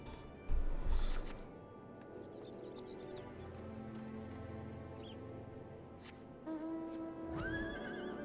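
A horse mount from the Final Fantasy XIV video game neighs, a brief whinny near the start over a steady bed of game music and ambience, with another short animal call near the end.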